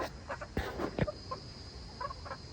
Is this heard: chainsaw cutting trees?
no